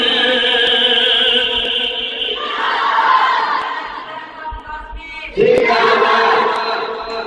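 A large religious gathering's crowd chants the takbir response in unison, loud and sustained with echoing voices, a fresh surge of chanting rising near the end.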